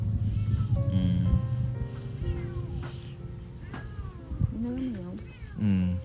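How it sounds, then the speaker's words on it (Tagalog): A cat meows repeatedly, its rising and falling cries close and clear over a low background hum and some murmuring. "may mga pusa kami dyan."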